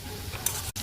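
Ground turmeric and cumin fry in hot oil with a brief, steady sizzle up close, broken by a faint tick near the end.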